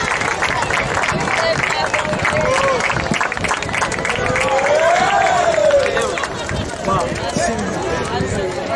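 Sustained applause and crowd noise at a beach handball trophy ceremony in Moaña, with trophies handed to the winning team. The clapping stays dense and steady throughout, and a voice rises briefly in the middle.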